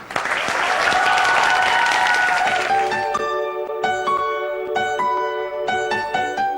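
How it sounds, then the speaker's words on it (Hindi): A television morning-show studio audience claps loudly and steadily for a few seconds, then the applause thins as musical tones come in over it. "तालियां बजा लूं"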